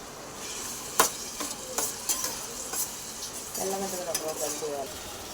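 Tamarind leaves stirred into a tomato curry frying in a pan: a few scraping clinks from a spoon against the pot, a soft background sizzle, then a brief rise in hiss near the end, with no voice.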